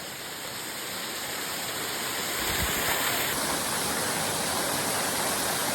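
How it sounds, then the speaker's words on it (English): A rainforest waterfall roars as a steady, loud, broadband rush of falling water, constant throughout and growing slightly fuller midway, with no voices over it. "So we reached the waterfall."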